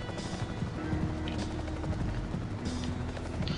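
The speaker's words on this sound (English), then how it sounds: "Oh, freaking helicopter." A helicopter in the video game Mark Ecko's Getting Up thrums steadily and close, its dense rotor rumble filling the scene with scattered game noises over it.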